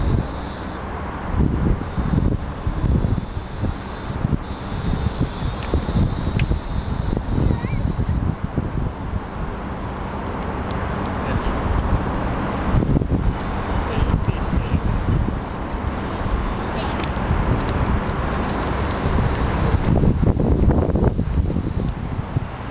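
Outdoor wind buffets the microphone in a steady low rumble with rustling gusts throughout, and a voice speaks intermittently over it.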